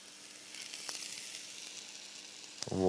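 Breaded trout pieces frying in a cast nonstick pan, a soft continuous sizzle that swells sharply near the end as another piece hits the hot oil; no one speaks.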